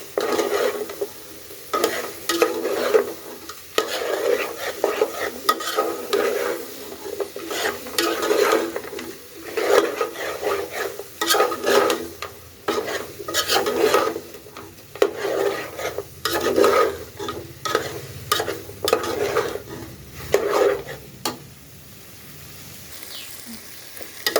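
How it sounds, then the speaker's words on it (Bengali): Goat meat stir-fries in a pot for a curry with potatoes, a spatula scraping and stirring in a steady back-and-forth rhythm over a low sizzle, loud and close, without talk. "গোস্তটা কষানো শেষ লাল লাল করে।"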